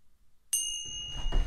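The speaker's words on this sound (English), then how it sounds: "I'm gonna gong us in" A gong is struck once after a moment of quiet, ringing out with a bright, sustained metallic tone that lingers while low background rumble builds underneath.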